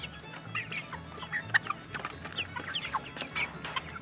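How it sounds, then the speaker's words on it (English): Leghorn chickens cluck and chatter softly in a run, with scattered short calls over a low background rumble and no talking. "I knew it was a leghorn."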